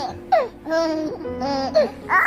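An infant babbling and crying out in short, rising and falling vocal bursts, close and fairly loud, continuing without pause for a couple of seconds.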